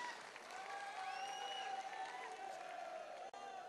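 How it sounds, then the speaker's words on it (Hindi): An audience at a Sadbhavna Mission political rally applauds steadily during Navjotsingh Siddhu's speech, a fairly faint, even wash of many hands clapping with a little crowd noise, cutting off briefly near the end. "अरे ताली जरा जोर से ठोको"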